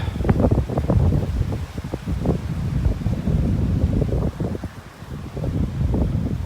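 Strong wind on a North Naples, Florida beach buffets a handheld camera, producing loud, gusty rumbling microphone noise that surges and dips in uneven bursts, with no voices.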